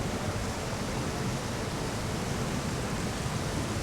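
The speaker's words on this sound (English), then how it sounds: "Wow, the fountains are on." Outdoor fountains running in Singapore produce a constant broad rush of falling water, close and steady throughout with no talking.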